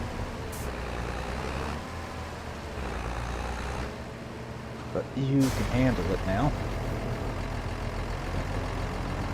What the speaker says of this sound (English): Big tractor on a little wagon.